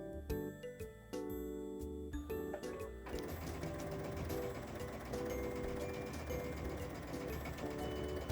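A sewing machine stitches quilt house blocks: after a few stop-start bursts, a steady, rapid mechanical whirring and ticking runs close and even until the end, with no talking.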